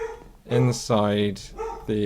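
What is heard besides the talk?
dog barking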